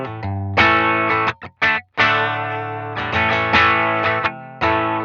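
Electric guitar through a UAFX pedal set for a vintage tone, loud and close, with sustained distorted chords broken by a few short gaps and re-struck phrases, no talking.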